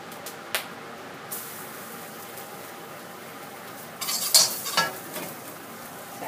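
Garlic goes into a pan for stir-fried pink noodles, a quiet background sizzle with a few sharp utensil knocks and a short burst of scraping and hissing near the end.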